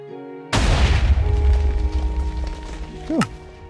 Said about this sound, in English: So that's a really basic repeating TNT cannon